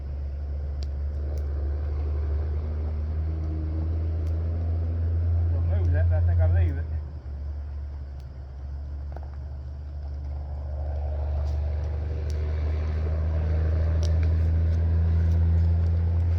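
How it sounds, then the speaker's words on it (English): Distant traffic from Highway 19 drones as a steady low rumble, with a nearby vehicle swelling louder for a few seconds before fading back into the constant hum. "for the most part it sounds like traffic"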